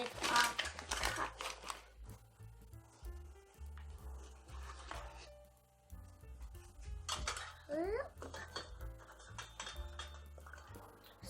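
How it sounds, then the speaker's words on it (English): Measuring cup scooping flour from a container while making pancakes, soft close scrapes, rustles and light clinks of the cup and bowl in irregular bursts, with a voice murmuring at times. "So now we're scooping up the flour with our cup."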